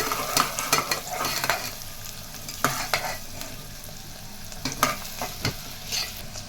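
Masala browns in a hot pan for a boti gongura curry, with a steady sizzle under repeated scraping and clattering strokes of a stirring spoon, close and fairly loud.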